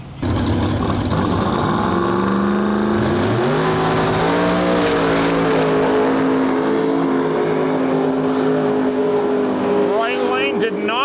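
Drag race cars at an Extreme Big Tire event, including a twin-turbo 1977 Camaro with a 555 big-block Chevy, roar loudly down the strip with rising engine pitch through the run, while a commentator talks over the noise.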